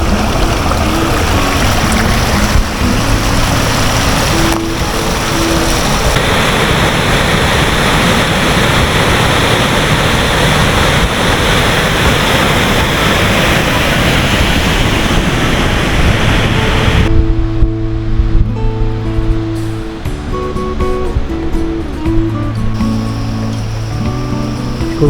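A waterfall on the Premilcuore hiking trail pours in a steady, loud broadband roar for most of the stretch. It cuts off abruptly near the end, leaving quieter outdoor ambience with a few tonal sounds.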